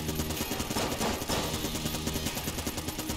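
Rapid, continuous gunfire from a video game rattles loud and close in dense bursts, with no talking over it.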